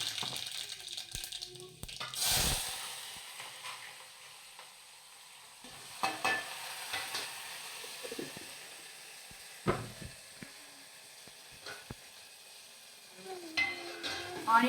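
Spices for a dried prawn curry crackle and sizzle in hot oil, with a loud burst near the start followed by scattered pops and stirring scrapes, fairly close and without talk.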